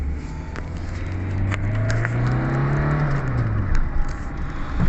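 Small turbocharged Citroën C2 petrol engine of about 60 horsepower, heard up close with a steady low drone that swells and rises in pitch through a rev, then settles back, with no talking over it.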